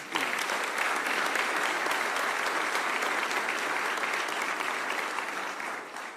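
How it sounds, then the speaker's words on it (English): A crowd at a jobs announcement in Ruston applauds a team with steady, full applause throughout, many hands clapping evenly and tapering slightly toward the end. "How about a round of applause for LED's team?"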